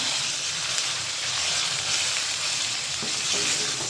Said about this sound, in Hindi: चिकन का कलर चेंज होने तक आपने इसे फ्राई करना है।